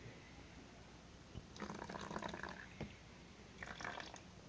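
Water poured into a jiggly unicorn slime mixture and stirred in, giving soft, close sloshing and squelching bursts over a steady background hiss, with no talking.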